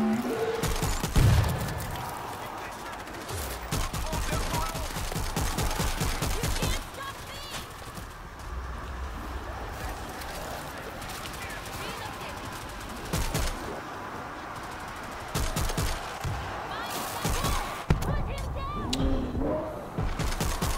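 Rapid gunfire and heavy grenade launcher blasts in the World War Z video game, loud bursts of automatic shots clustered in rhythmic volleys with brief pauses, plus a few deeper booms and occasional commentary.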